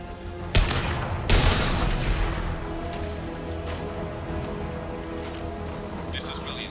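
Gunfire in Mass Effect 2, with two sharp loud shots early followed by a sustained crackling firefight that fades to a lower, steady background, while a voice talks over it.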